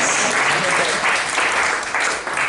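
Wedding guests applaud with steady, dense clapping that fills the room at close range, sustained throughout with a faint voice mixed underneath.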